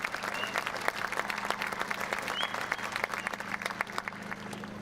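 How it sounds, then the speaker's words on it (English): A crowd at a school pep fest claps steadily for several seconds, dense applause filling the room at an even level, with a few voices faintly beneath. "give our Booster Club, Rhonda, Sue, Leslie, a round of applause for helping us out tonight."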